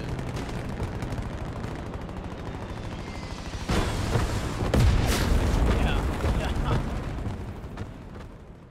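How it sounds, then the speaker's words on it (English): Artillery fire in the WWII shooter Hell Let Loose on the Foy map: heavy booms and crackling impacts land in a dense cluster, with rumbling blasts over continuous battlefield noise and faint voices. "I think they're fucking aiming the artillery"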